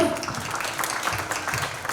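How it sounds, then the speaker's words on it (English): Crowd applause at a book launch with scattered clapping, fairly loud and steady for a couple of seconds, with faint voices mixed in. "Huge round of applause."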